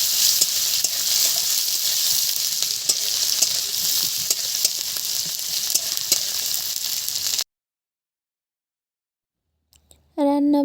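Leafy greens for chorchori stir-frying in a pan, a steady bright sizzle with scraping stirs for about seven seconds, then a sudden cut to silence before a brief burst of sound at the end.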